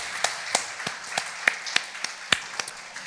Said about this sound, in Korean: 수고 많으셨는데 박수 한번 치시죠